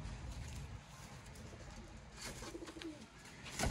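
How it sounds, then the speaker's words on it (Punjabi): Sialkoti pigeons give soft, low coos, faint and somewhat buried in a steady background hiss, with no talking. "ਇਹ ਨੇ ਦੋਸਤੋ ਬ੍ਰਾਂਡ ਸਿਆਲਕੋਟੀ ਕਬੂਤਰ"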